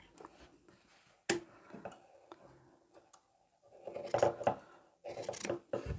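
Scissors cut quilt fabric close by in a quiet room: a few sharp snips, then softer rustling cuts.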